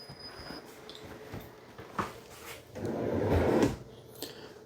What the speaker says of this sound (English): Full extending ball bearing drawer guided drawers.